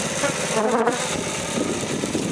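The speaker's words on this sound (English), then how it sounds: "We apologize for the bee noise." Steady, close buzzing of many honey bees around an open hive, a dense continuous drone with no talk.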